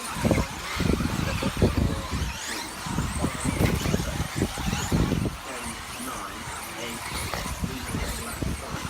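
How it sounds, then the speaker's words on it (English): At a 4WD RC car racing final, small electric cars whine and squeal around the track with rising and falling passes, heard under continuous race commentary. "Van Helmen just getting it sideways onto the straight, so Jemo closing in a little bit more"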